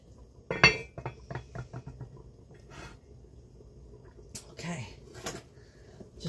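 A few metallic clinks and clatters of a lid being set on a cooking pot of homemade beef stew, close and sharp at first, then softer knocks with a voice speaking between them.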